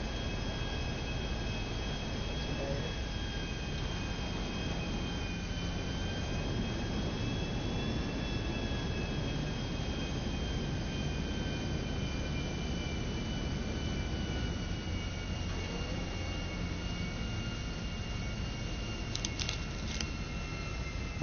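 Engines of a Titan cargo plane in the GTA 5 video game drone steadily in flight, a continuous jet roar with faint whining tones running unbroken throughout, without voices.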